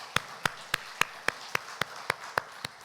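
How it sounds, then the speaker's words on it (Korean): A church congregation clapping for birthdays during a Sunday service. The claps are sharp, evenly spaced and in a steady rhythm, fairly faint, with no talking over them. "우리 박수로 축하합시다."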